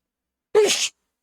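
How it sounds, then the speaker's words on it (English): A single sharp sneeze erupts from a near, quiet background, short and abrupt, then silence. "I had to sneeze."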